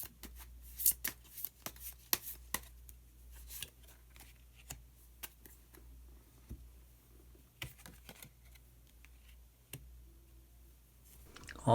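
Tarot cards being drawn and shuffled at a table, giving scattered soft clicks, taps and card slides at close range over a quiet background, with no talking.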